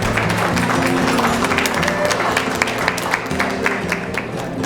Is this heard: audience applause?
yes